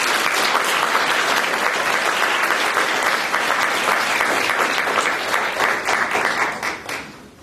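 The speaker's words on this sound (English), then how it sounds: "And if I can just point over to Tanya Bevan, maybe we can have a round of applause." Loud, dense applause from a lecture audience at a talk on Congress and ocean acidification, sustained for several seconds before tapering off at the end.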